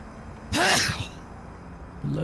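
A single short, sharp sneeze bursts out close by, with a quiet background before and after and a voice starting to speak just at the end.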